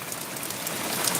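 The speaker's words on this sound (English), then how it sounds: "It's fucking pouring down. You see the rain bouncing." Heavy rain pours down in a steady, dense hiss of drops bouncing off surfaces, loud and close with no voices.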